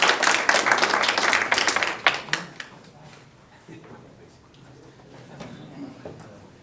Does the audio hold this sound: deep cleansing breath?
no